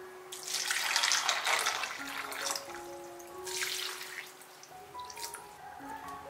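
Tap water runs and drips into a sink or bowl for soaking wood ear mushrooms and dried daylilies, a steady splashing trickle with brighter bursts, fairly close and alone without talk.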